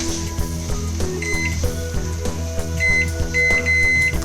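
Kitchen timer being set with a few short electronic beeps during home brewing, heard over a steady background hum and clatter.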